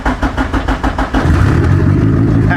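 A Honda Civic engine cranks with a rapid stuttering starter rhythm, then catches and settles into a loud, steady idle close to the microphone.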